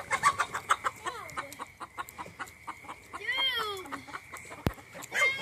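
Farm chickens cluck close by in quick, rhythmic bursts, broken by a few longer rising squawks and a sharp knock near the end.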